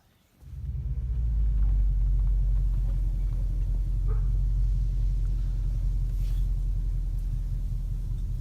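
A car engine fitted with a line lock starts abruptly on a street, then rumbles steadily at idle with a deep, continuous drone, close by, with faint outdoor background sounds.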